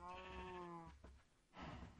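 Sheep in the Minecraft video game bleat in a close, clear wavering cry, then a second shorter bleat follows after a brief gap.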